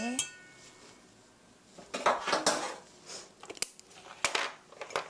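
Apple cinnamon cake batter is mixed in a bowl, heard as close, irregular clinks and scrapes of a utensil against the bowl, bunched in quick bursts with short pauses.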